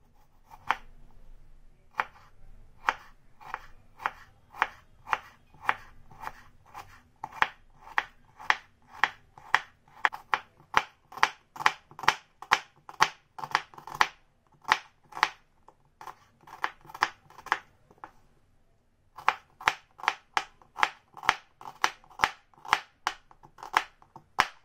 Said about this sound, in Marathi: तर याचप्रमाणे आपण दुसरे पण भाज्या ज्या आहेत त्या कट करून घेणार आहे.